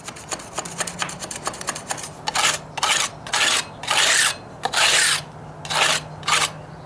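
Rasping scrapes over hardened Durham's Rock Hard water putty patched into a dry-rotted wooden deck, first light quick strokes, then a run of longer, louder back-and-forth scrapes close by, with no talking.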